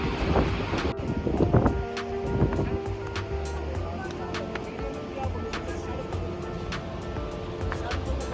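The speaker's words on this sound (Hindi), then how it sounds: "आप मेरे सामने जो नदी देख रहे हो सरस्वती नदी है" The Saraswati river rushes through a mountain gorge near Bhim Pul, a steady broadband roar of flowing water with wind buffeting the microphone and a few louder splashes early on.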